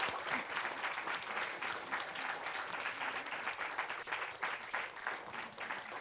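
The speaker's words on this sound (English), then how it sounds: "Can we have a big round of applause, please?" An audience at a panel talk on French identity claps in steady, dense applause that holds at an even level throughout, fairly distant and without cheering.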